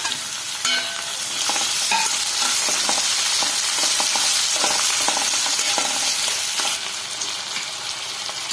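Cashews and chopped tomatoes fry in a pan for creamy paneer butter masala, giving a loud, continuous sizzle with steady stirring scrapes and clatter close by. The sizzle settles slightly lower near the end, and nobody talks.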